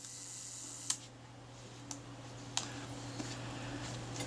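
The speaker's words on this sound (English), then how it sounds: "you just press the shutter down until the shutter button no longer moves downwards" A Kodak Retina IIIC film camera under repair has its shutter released several times, giving sharp, isolated mechanical clicks against a quiet room hum.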